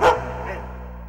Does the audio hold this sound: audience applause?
no